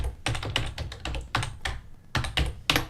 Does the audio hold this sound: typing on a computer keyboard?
yes